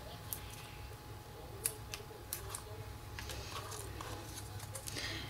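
Scissors cut through small paper dimensional adhesive pads in a few quick, faint snips, heard close up over a soft background hiss.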